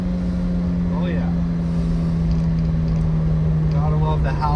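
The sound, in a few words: Toyota 4AGE engine howling while driving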